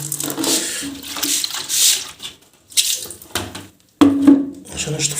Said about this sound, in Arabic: جبت بقى الجردل اهوت احط فيه بقى ميه